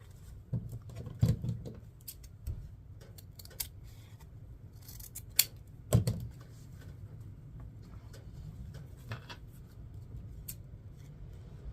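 Scissors snip through mesh ribbon at an angle for a wreath, giving a few crisp close cuts over a low steady background hum, with no one speaking.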